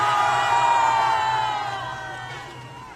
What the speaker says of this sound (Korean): 우리 애국 국민들이 어린아이부터 어르신까지 박근혜 대통령님의 탄핵은 원천무효이다라며 외치고 있습니다.